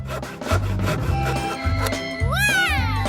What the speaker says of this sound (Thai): มันมีวิธีดีๆแล้วล่ะต้องใช้เลื่อยออกมาเลื่อย